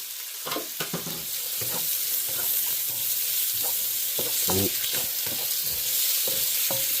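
Garlic frying in groundnut oil for a stir fry, a loud continuous sizzle close up with occasional stirring scrapes and pops against the pan, no speech.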